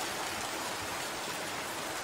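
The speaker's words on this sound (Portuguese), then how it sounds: "Chuvinha boa aqui no DF." Light rain falls in Brasília, a soft, even outdoor hiss of drops that stays constant throughout without any speech.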